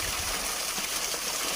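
A natural waterfall and stream runs with reduced flow after little rain, giving a steady, even rush of water close by with no breaks and no voices.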